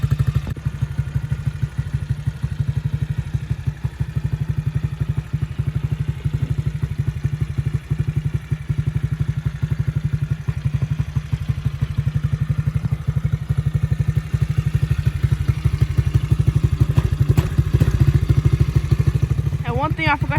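A Tao 110cc ATV engine runs steadily after an electric start, giving a loud, close, even putter without revving for the whole stretch, with a brief voice near the end.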